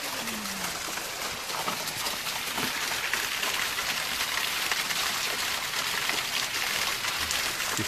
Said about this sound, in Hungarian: kis szökőkutak,